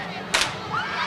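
A starting gun fires once at a relay race, a sharp loud crack followed by a brief echo, with a crowd murmuring and shouting faintly in the background.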